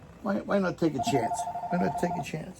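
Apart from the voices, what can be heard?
telephone ringing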